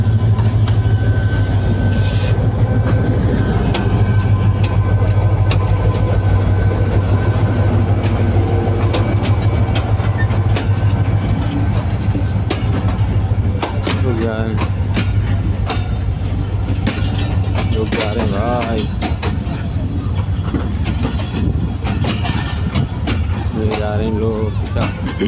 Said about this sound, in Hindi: बाबा फरीद ट्रेन जा रही है पिशावर